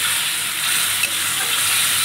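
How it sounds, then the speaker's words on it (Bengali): Spice paste for an egg and small potato kosa sizzles and hisses in a pan after a splash of water, a continuous bright frying crackle with no voices. "আর একটু জল দিয়ে মশলাটাকে আর একটু ভালো করে কষিয়ে নেব।"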